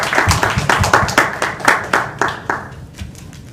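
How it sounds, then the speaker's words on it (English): Audience applause for the event's organiser at a speech, a burst of rhythmic clapping from a small crowd that thins and fades toward the end. "can we get a round of applause for her?"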